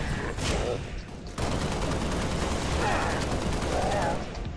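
Rapid DMR rifle fire in the Halo: Reach video game, a dense run of loud, sustained gunshots with a brief lull near the start, mixed under game noise and some talk.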